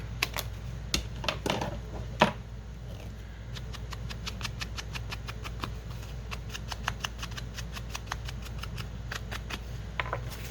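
Scissors snip through folio material in a run of quick, crisp clicks, closely spaced and fairly faint over a steady low hum, with one sharper cut standing out near the start.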